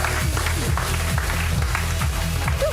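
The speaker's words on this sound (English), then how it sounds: "Keep that applause going for Miles," Studio audience applauding at a game show, a dense steady wash of clapping over the whole short stretch, with a low musical bed underneath.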